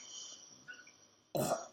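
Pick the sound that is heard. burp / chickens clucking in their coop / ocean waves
burp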